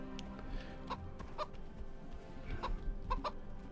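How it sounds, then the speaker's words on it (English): A chicken in the video game SkySaga clucks repeatedly, giving several short, nearby clucks spread unevenly over a steady background with no talking. "Hello, chicken. Come and see your chicken god."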